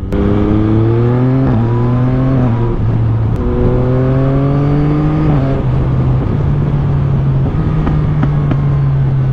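A Yamaha MT-09 SP 2023 motorcycle engine revs loudly and close, rising and falling through repeated throttle blips with a steady idle rumble between them and no talking.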